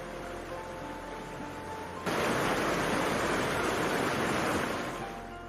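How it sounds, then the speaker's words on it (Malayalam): At Kolli Hills, water plunges from a waterfall about 300 feet high. After a quieter opening, a dense, steady roar of falling water suddenly surges in, close and loud, then holds before easing slightly. "ഈ വെള്ളച്ചാട്ടത്തിൻ്റെ പ്രത്യേകത എന്താണെന്ന് പറഞ്ഞാൽ മുന്നൂറ് അടി ഉയരത്തിൽ നിന്നാണ് ഇത് താഴേക്ക് വീഴുന്നത്"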